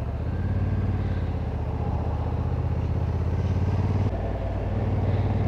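A motorcycle engine runs steadily while riding uphill, with a low, continuous drone and mechanical clatter, close by, with no talking.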